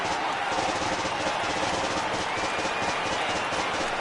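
Big baseball stadium crowd of tens of thousands at a Pirates at Tigers game, a dense, steady wash of cheering and noise with faint talking mixed in.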